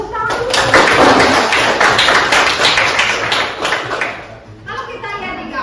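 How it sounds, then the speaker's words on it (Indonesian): Students in a classroom clap in a loud, busy burst of overlapping claps and taps that fades near the end, with voices underneath. "Oh, bagus sekali ya. Tepuk tangan."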